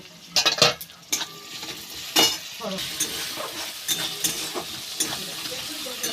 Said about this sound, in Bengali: আদা আর রসুন দিয়ে আবার ভালো করে ভেজে নেব